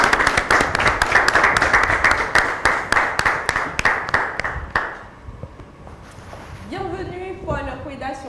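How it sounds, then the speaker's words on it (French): A talk show studio audience claps in rhythmic unison for several seconds, the beat sharp and regular before fading out, followed by voices talking. "On applaudit très fort."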